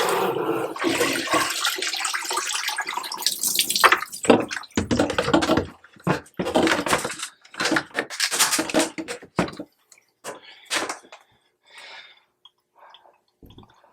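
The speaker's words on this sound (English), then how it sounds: "Give it a rinse when you get a second, but you want to take your tray out first." Water gushes steadily over parts of a Fluval FX6 canister aquarium filter as they are rinsed, then breaks into choppy splashes and short bursts of running water before it fades to near silence.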